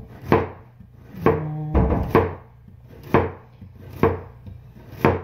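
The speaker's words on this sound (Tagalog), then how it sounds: "So ito guys, hiwain ko na yung carrots." Knife chopping carrots on a wooden cutting board, six sharp evenly spaced strokes about a second apart, close and clear with no talking.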